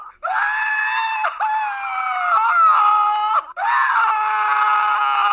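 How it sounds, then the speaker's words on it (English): A man screams in long, strained bursts on a recorded Vault-Tec phone line message, several sustained yells broken by brief gasps, loud and alone. "Yeah, just a dude screaming."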